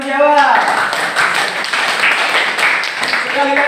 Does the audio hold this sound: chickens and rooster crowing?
no